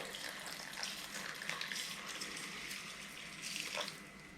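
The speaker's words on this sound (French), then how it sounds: "75 centilitres d'eau froide" Cold water poured for a bissap cocktail makes a continuous close splashing, gushing pour with small bursts, steady and moderately loud throughout.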